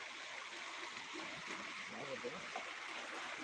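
A small stream flows with a steady, faint broadband hiss and trickle, continuous and even throughout, with no clear voices over it.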